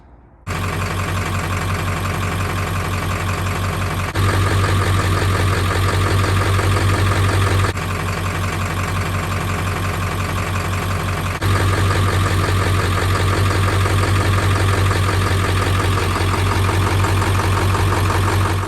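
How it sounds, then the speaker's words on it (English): An old diesel truck engine idles loudly and steadily, with a deep, constant drone and a faint repetitive knock. The sound is split into back-to-back recordings with abrupt cuts between them. "you could actually go and hear, if you listen, like that knock."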